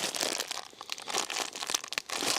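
Close crinkling and crumpling of a plastic fishing groundbait bag, continuous rustling bursts with brief pauses, no voices.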